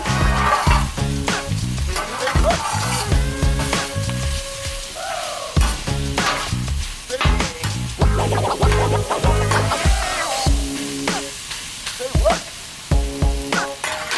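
Onions fry on a hot griddle for a chopped cheese, a steady loud sizzle broken by repeated metal spatula scrapes and clanks, with no talking.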